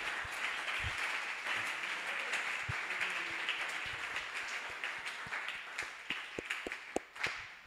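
A church congregation claps together in a dense, sustained burst that gradually thins out into a few scattered, sharp individual claps near the end.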